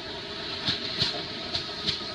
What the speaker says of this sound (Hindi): ये देखो ये ब्लू कलर का इंजन आया है